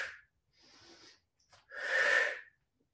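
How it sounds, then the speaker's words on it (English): Deliberate breathing during a ballet floor barre exercise, with a few close, breathy inhales and exhales separated by short pauses, the last one the longest and loudest. "let's go and incorporate breathing"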